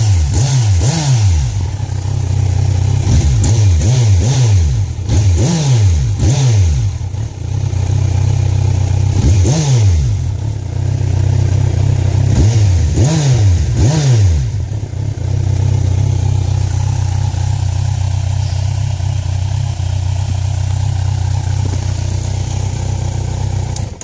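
A Kawasaki Z1000 motorcycle with a Power Commander fitted revs in a series of sharp throttle blips over a steady idle, close and loud, with no talking.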